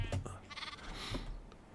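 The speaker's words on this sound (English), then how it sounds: "Some of the sheep have grown up." A single sheep in a TerraFirmaCraft Minecraft farm gives a short, faint bleat, wavering briefly and heard alone.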